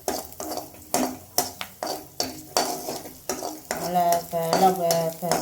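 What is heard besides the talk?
stirring and sautéing leaves in a pan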